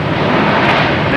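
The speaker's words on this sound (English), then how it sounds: "Swiss Air coming in. A330-300 from Zurich." A Swiss Air Airbus A330-300 from Zurich arrives at Boston Logan Airport, a brief, loud, dense jet roar filling the moment without pause.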